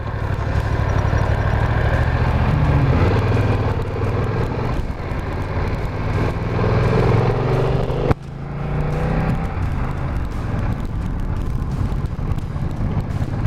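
A 2020 BMW F900 XR motorcycle engine pulls steadily under throttle in top gear at around 40 mph, a continuous drone heavily mixed with loud wind buffeting across the microphone.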